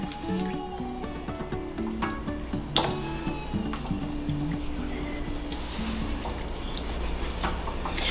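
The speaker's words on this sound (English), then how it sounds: "Here are our green beans, and we're gonna just put them in there." Green beans poured into a pot in a home kitchen for green bean casserole, giving a steady, wet, trickling pour and splash that runs continuously and close by with no talk.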